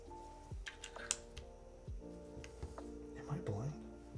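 Keystrokes on a custom mechanical keyboard during a build, scattered clacks and taps at an irregular pace, fairly quiet and up close, mixed with a steady hum and faint background sounds.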